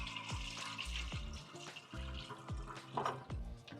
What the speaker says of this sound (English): just pour the water off like so